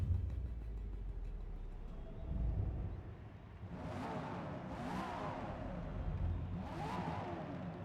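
An Aston Martin Group C race car engine in Forza Motorsport at Catalunya revs and surges in three rising bursts around the middle and end, over a steady low rumble of engine noise.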